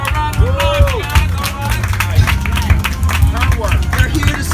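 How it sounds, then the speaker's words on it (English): Audience applause at the Leimert Park Heritage event, a burst of clapping and crowd noise mixed with voices and speech babble, fairly loud and close. "Give her a round of applause"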